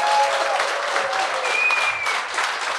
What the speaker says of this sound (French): J'aimerais ça, il donne une bonne main d'applaudissements.